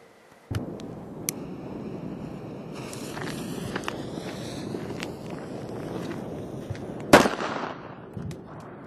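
A Weco Super Böller 2 firecracker, an older one, bangs outdoors: a sharp crack, a loud burst near the end, and a fainter pop after it, with crackling and rustling background noise in between.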